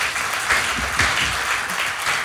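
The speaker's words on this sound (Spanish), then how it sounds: "Un aplauso para él." Steady audience applause at a live comedy talk show, a dense wash of clapping from a crowd that swells slightly in waves.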